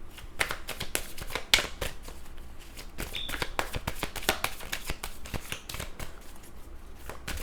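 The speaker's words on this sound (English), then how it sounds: "I want to see if I shuffle some more, what will come out for you guys." A deck of tarot or oracle cards shuffled during a pick-a-deck reading, with a steady run of quick, papery riffling bursts close by, with no talking.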